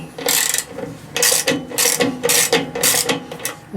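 A ratchet wrench tightens a bolt on the rear spring mounting of an MGA 1600 under restoration, giving five loud, close bursts of rapid clicking separated by short pauses.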